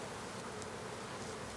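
A steady, dense hum of bees swarms around an opened hive built by squirrels, the buzzing continuous and fairly soft with no voices.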